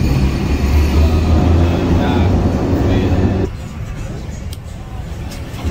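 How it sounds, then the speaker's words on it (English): A New Orleans trolley rumbles along with a loud, steady low roar of wheels and motor, then quiets sharply partway through to a softer hum, with faint clanks on board. "we're up on the trolley"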